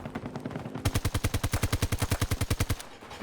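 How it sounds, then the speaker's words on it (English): Rapid automatic gunfire in the video game Battlefield 2042, one burst of about twenty evenly spaced shots after a short lead-in, loud and close with no talking. "just barely got him through the bush there with that last shot"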